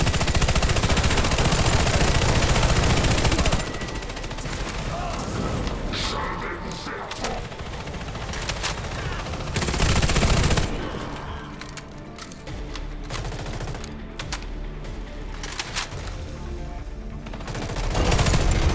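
Sustained machine gun fire in the online shooter Warface, dense bursts of automatic shots with booming impacts. The firing is loud and continuous, with louder surges near the start, middle and end.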